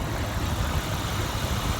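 A 1998 Jeep Grand Cherokee 4.0 engine idles with a steady, low rumble, close and continuous throughout, with no voices.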